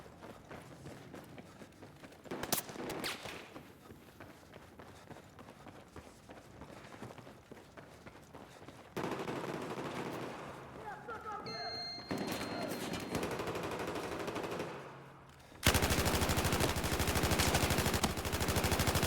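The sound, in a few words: light machine gun firing in Battlefield video game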